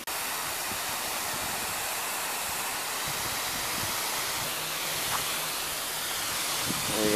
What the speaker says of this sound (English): Definitely got some good spraying action.